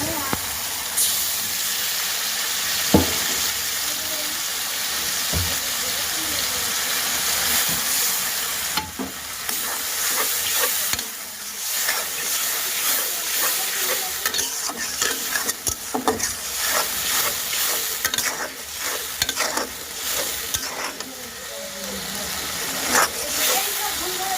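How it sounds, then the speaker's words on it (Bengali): Spice paste frying in oil in a pan, a steady close sizzle with scraping stirring strokes and occasional clacks, some background noise and faint voices now and then. "এদিকে তেলটা দিয়ে আমি হচ্ছে ঝটপট মশলাটা কষিয়ে নেব"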